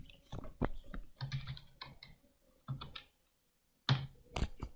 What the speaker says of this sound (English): so I'm just going to type float